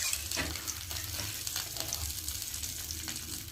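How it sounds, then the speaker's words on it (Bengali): Rui fish kalia gravy bubbles and sizzles in a pan, a close, continuous simmering crackle with small irregular pops throughout. "ঝোলটা ফুটছে"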